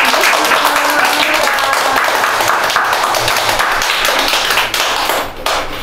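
A lecture audience applauds to welcome Kim Ho-il, president of the Korea Senior Citizens Association, with dense, steady clapping throughout that thins slightly toward the end, while faint voices murmur underneath.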